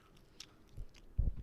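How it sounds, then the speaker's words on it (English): Gum chewing close to the mouth, a few soft wet squishing chews that grow louder toward the end. "I should make a note to myself to not chew gum while I'm doing this"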